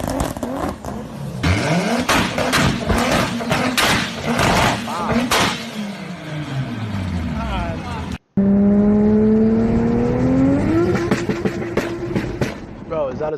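Toyota Supra with a 2JZ engine revving hard through a burnout with exhaust flames, loud sustained roaring and rising revs with sharp pops, then a cut and a climbing wail as the engine winds up.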